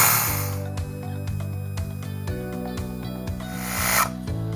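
A battery-powered AUDEW FC380 portable air compressor running steadily up close, a loud continuous motor hum with a rattling buzz and brief shifts in tone, with no talking.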